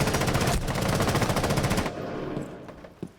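A drone-mounted minigun firing in a video game, a loud rapid continuous burst of shots that cuts off and leaves a fading tail with one last thump.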